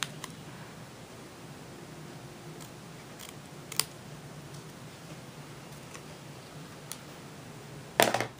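Scissors make a few sharp, scattered snips through paper during a craft project, separate clicks spread over several seconds with a louder cluster near the end, heard close against a quiet room.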